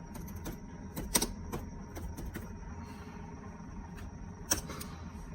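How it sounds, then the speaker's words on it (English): Typing on a computer keyboard: sparse, quiet key clicks in small uneven clusters over a low steady room hum. "I'm going to type in hidden wiki."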